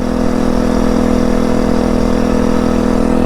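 A Phatmoto Rover motorized bike's small engine runs at a steady high speed near 5,100 RPM, a loud, continuous drone with no change in pitch and no voices over it.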